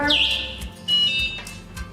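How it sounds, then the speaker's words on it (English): A seated A1 electric scooter's remote sets off its burglar alarm, a shrill electronic siren chirping and warbling in short high bursts that stop and restart over two seconds, fairly loud and close. "it has a burglar alarm on the remote"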